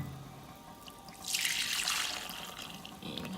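Boiling water poured into a bowl for a seafood boil of crab legs, corn, sausage, potato and shrimp, a close splashing gush lasting about two seconds, then a quieter trickle.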